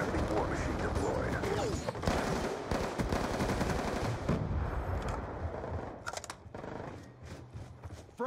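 War Machine grenade launcher firing in Call of Duty Black Ops 2, loud repeated blasts and explosions amid chaotic battle noise, with brief in-game voice callouts.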